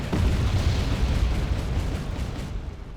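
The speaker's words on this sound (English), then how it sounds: "Internal ammo explosion on one of the SPW-40Bs." An internal ammunition explosion destroys an SPW-40B armored vehicle in the Wargame: European Escalation battlefield, a loud, sustained roaring blast with rumbling low end that fades slowly over a few seconds, no voices present.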